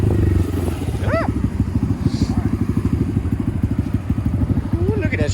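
A Honda Grom motorcycle idles close by, its small engine putting out a steady, rapid, loping thump throughout, with a brief higher voice-like sound early on.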